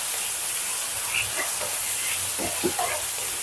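Tomatoes cook in a hot pot, a steady hiss and soft sizzle that carries throughout, with a few light stirring knocks near the end.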